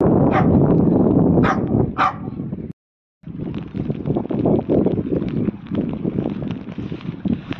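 A few sharp dog barks in quick succession over heavy, blustery wind noise in rain at a harbour, followed by a brief dropout and continued wind rumble.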